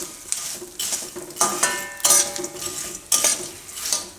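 Edible gum goes into fada laapsi in a pot over a low flame and is stirred, several sharp metallic clanks and scrapes of a spoon against the pot standing out over a faint sizzle, with no talking.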